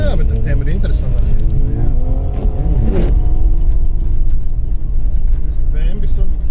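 A BMW speeds past on a road, a loud rumbling engine with a rising and falling pitch beneath near, continuous talk.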